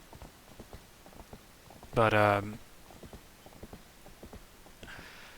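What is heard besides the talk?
horse hooves in Zelda: Twilight Princess HD video game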